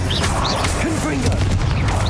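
Hogwarts Legacy combat in which a Confringo blasting spell explodes with a loud, booming crack, surrounded by dense crashing and clattering impacts along with brief swooshes and game effects.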